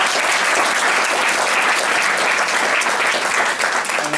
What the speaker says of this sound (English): a round of applause for them too as well.